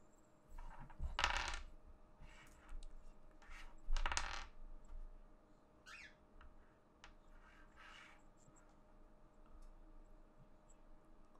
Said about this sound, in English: I gotta find the right dice.